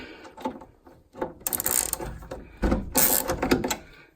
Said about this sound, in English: I'm just going to undo these nuts now. This is a 10mm socket for Ideal